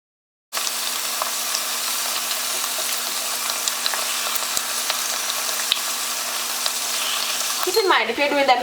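Scallion dumplings hit hot oil in a pan and fry with a loud, steady, broadband sizzle that holds unbroken for about eight seconds, with faint spatters and clinks rising near the end.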